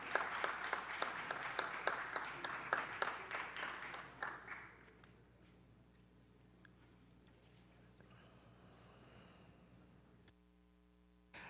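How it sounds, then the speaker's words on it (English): A council meeting audience applauds elementary school students with a burst of rhythmic clapping that fades after about four seconds, leaving a quiet room with faint shuffling and a short tone near the end. "Give them a round of applause"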